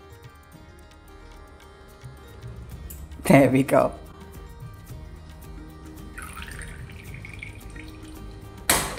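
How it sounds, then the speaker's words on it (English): Strained homemade ghee is poured into a bottle, giving a short, loud burst of liquid splashing and trickling midway. A voice speaks briefly over a quiet kitchen background with light ticking drips. "And pour it into the bottle."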